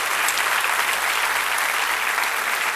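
Congregation at a church event applauding, steady dense clapping from a sizeable crowd sustained evenly throughout.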